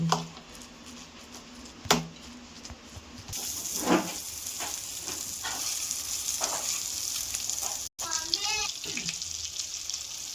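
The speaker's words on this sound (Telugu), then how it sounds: "బటర్ వేసేసుకున్నా. బటర్ మెల్ట్ చేసుకుంటున్నా." Butter melts in a hot pan while cooking crispy potato balls, giving a steady soft sizzle with occasional stirring clinks and scrapes, a voice speaking faintly at times.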